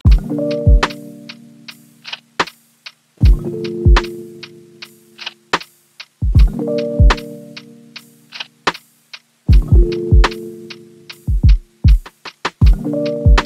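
A looping lo-fi beat made in FL Studio with crisp ride cymbal ticks and shaker taps over warm sustained chords, repeating in even bars, clear and upfront.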